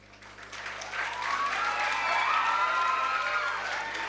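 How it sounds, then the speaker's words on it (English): Graduation ceremony audience bursts into applause that swells quickly into a full, sustained roar of clapping with some cheering, steady and loud over a low electrical hum. "Please give them a very big round of applause."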